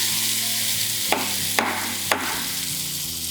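Hot oil tempering of mustard seeds, cumin, dried chillies and curry leaves sizzles steadily, broken by three sharp bursts of crackle as the pan is stirred, for Rayalaseema-style raagi sangati with sprouts.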